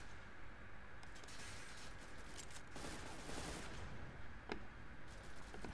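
Gunfire in the online shooter game Zula, heard as dense, continuous rapid bursts and fusillades with sharp single shots standing out, sustained and loud across the whole stretch.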